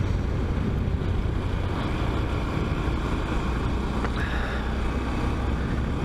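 Steady roaring wind rushes over the microphone while riding a Honda Grom motorcycle through a park on a hot day, a continuous loud buffeting with engine drone buried underneath and no talking.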